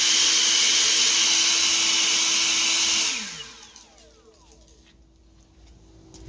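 An EGO 650 CFM battery-powered leaf blower roars loudly at full power for about three seconds, then its whine drops in pitch as it spins down to near quiet.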